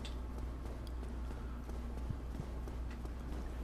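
Armored boar enemies charge in the video game Dark Souls: a steady stream of heavy, rhythmic thudding footfalls over a constant low rumble, with faint clicks and no talk.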